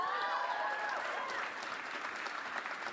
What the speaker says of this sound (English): That guy clapping looked very uninterested.